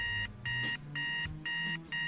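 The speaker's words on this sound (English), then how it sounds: "The sound of an alarm clock piercing through your dreams." An alarm clock rings in a bedroom, a loud piercing electronic beeping in regular pulses of about a quarter second, repeating four times with short gaps.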